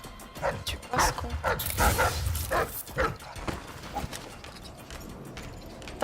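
Dogs in Dishonored: Death of the Outsider barking repeatedly in sharp bursts with yips and whimpers, loud and close at first, then fading toward the end.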